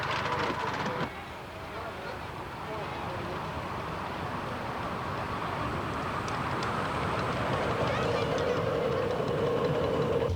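A big DC-powered large-scale model locomotive runs with a faint, steady low rumble, with a horn-like tone rising toward the end.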